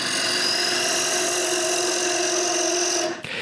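A wood lathe spins a small cylinder of wood for a handle, giving a steady, close, whirring motor hum with a bright sustained tone that cuts off sharply near the end.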